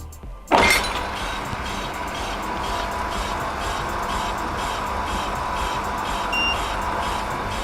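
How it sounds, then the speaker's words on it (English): Brake disc skimming lathe spinning an Audi R8 brake disc while measuring and adjusting: an abrupt start into a steady whirring machine hum with faint regular ticking, continuing evenly and fairly loud. "we'll get the disc spinning and you'll see the machine taking some measurements and you'll hear it adjusting"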